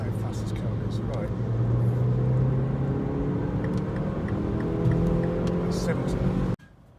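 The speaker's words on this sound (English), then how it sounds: "I'm just going to floor it in a minute, and I'll show you exactly just how fast this car is" A 2008 Mini Cooper S Clubman engine drones steadily with rising tonal harmonics as it accelerates hard at full throttle, loud and close, running continuously before cutting off abruptly near the end.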